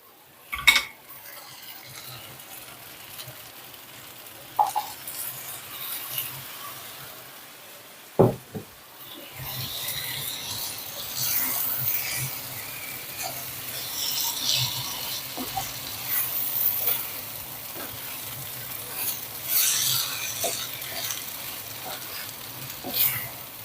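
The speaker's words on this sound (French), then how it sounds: "je vais mettre du bouillon, je vais mettre un quart, bien remuer" Rice with zucchini and lardons simmers in a pot after broth is added, a soft bubbling sizzle with occasional spoon knocks and scrapes against the pan, fairly quiet and close, growing a little fuller midway.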